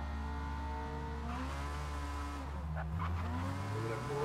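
Car wheels spinning in Forza Motorsport 8, a steady droning motor with pitch sweeping upward and brief tire squeals, moderately quiet.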